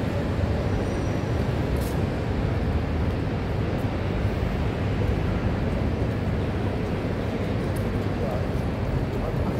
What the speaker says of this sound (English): It's the shuttle train.